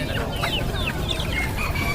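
Many small bantam chickens cluck and chirp at once amid a busy, noisy crowd at a Sunday bird market in Palembang, with a few higher crowing calls poking through the steady din.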